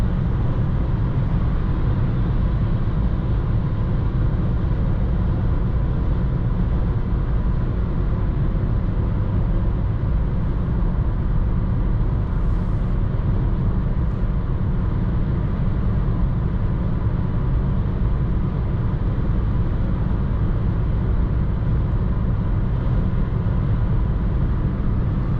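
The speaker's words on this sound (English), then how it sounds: "There is some wind noise above 140." Steady wind rush and road roar fill the cabin of a Skoda Fabia 1.0 MPI cruising at highway speed above 140 km/h, a constant broadband drone with no talking.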